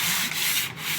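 Light hand sanding of 100-year-old reclaimed wood floorboards, a steady close scratchy rubbing that carries on without a break and with no voices.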